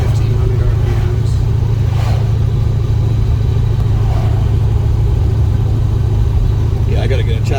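A 1969 Chevrolet Nova with a 350 engine and four-speed, cruising at about 35 mph in fourth gear around 1,500 rpm, a steady loud low engine drone with road noise and people talking over it.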